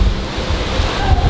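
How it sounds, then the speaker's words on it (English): Storm wind roaring like a hurricane with rushing, misting water at Halloween Horror Nights theme park, a loud steady blustery rush close to the microphone. "It's like a hurricane out here."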